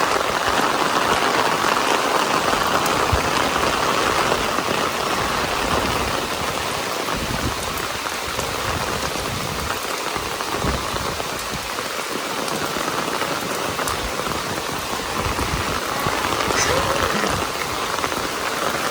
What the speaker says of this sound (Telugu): సడన్గా వర్షం వచ్చేసింది